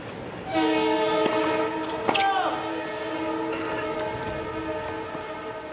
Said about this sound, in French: C'est un train qui arrive